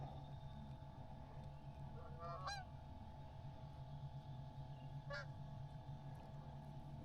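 A duck calls near the water during a crappie fishing outing with two short, nasal honking calls a few seconds apart, moderately distant, over a steady low hum.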